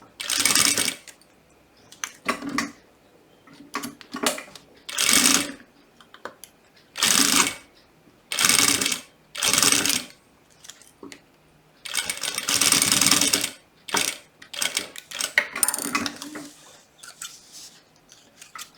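A sewing machine runs a safety seam on a butterfly-shaped fabric toiletry pouch in short bursts of fast stitching, broken by pauses. The bursts sound close and moderately loud, and no one talks.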